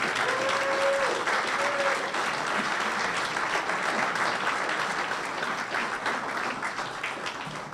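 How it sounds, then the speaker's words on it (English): Loud, continuous applause from a large audience at an Eagle Council gathering greets a speaker walking up, a steady roar of many hands that fades slightly toward the end, with a few faint voices mixed in. "have you encourage him with a round of applause"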